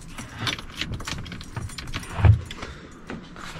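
Car keys jangle briefly near a 1991 Cadillac Brougham d'Elegance lowrider, a light metallic rattle with a small clink, close and alone.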